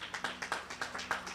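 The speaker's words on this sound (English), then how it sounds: "Let's give a round of applause for her." Audience applause for Reverend Jeanette Wilson, heard as a short run of rhythmic, fairly faint claps in steady succession, roughly five per second.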